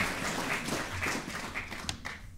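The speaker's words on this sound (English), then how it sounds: "Let's give a round of applause." Audience applause at a peace and conflict workshop, a short burst of scattered hand clapping heard at a modest distance, thinning out near the end.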